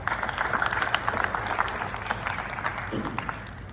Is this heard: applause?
yes